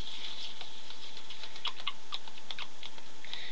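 Rain patters in light, irregular taps and drips over a steady hiss, fairly soft and with no voices.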